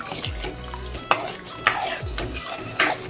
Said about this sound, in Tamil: கட்டிப்படாமல் நல்லா கிண்டுவோம்